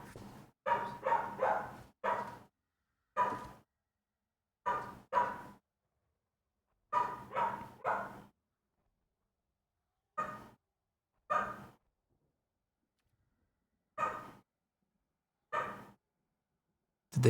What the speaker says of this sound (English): I was distracted by my dog barking